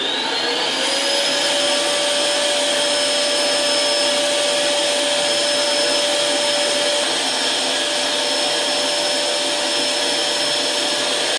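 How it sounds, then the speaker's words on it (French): A vacuum cleaner fitted with thin, flexible hoses runs steadily and loudly, sucking sand out of the rocker panel of a Citroën Traction 11B body; the motor holds a constant whine with a slight pitch rise at start-up. "J'ai rajouté des tuyaux plus souples et plus fins à l'aspirateur. Ça va me permettre d'aspirer le sable qui est dans le bas de caisse."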